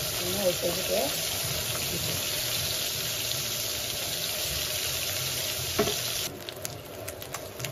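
Tangra fish fry in a pan with a steady, close hiss of sizzling oil and a soft knock or two; a voice speaks briefly near the start.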